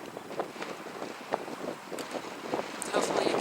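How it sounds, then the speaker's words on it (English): Gusty wind in New Zealand buffets the microphone in uneven bursts of rumble and hiss, growing stronger toward the end, with faint voice-like sounds in the background. "It's very windy also"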